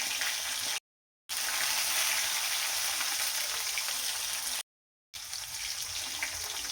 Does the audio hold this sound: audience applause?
no